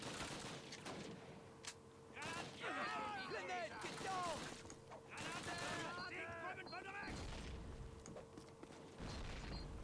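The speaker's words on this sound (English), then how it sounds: "Kind of was hoping that grenade did a bit more." Grenade blast and gunfire in Call of Duty Classic, with loud bursts of shooting and booms packed across several seconds, overlapping clipped voices and game chatter throughout.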